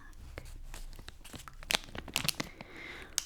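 Plastic bag holding long golden earrings, crinkled close to a microphone in irregular rustling bursts with a few sharper crackles, heard alone.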